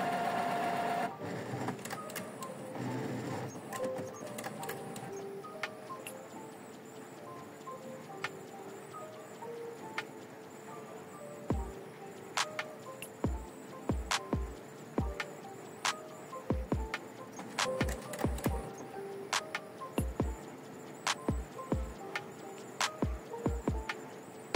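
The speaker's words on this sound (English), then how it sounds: "The printer will now begin cleaning." A Brother DCP-T520W inkjet printer runs its print head cleaning cycle close by, with a quiet, steady mechanical whir broken by a series of sharp, irregular clicks and ticks that grow denser toward the end.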